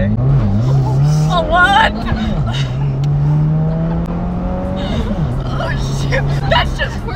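Subaru all-wheel-drive car launching hard in first gear, engine revving loudly and rising through gear changes with tire squeal, close and continuous, while people talk and react over it.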